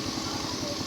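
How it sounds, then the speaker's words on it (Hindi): A train engine approaches near a station under demolition and reconstruction, a steady rumbling drone with a low pulsing throb, loud and continuous throughout. "और इंजन आ रहा गाड़ी का, किसी गाड़ी आ रही इंजन है"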